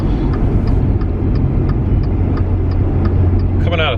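A Maserati Ghibli cruises on the road with a steady low engine and tire rumble filling the cabin, and someone talks over it the whole time.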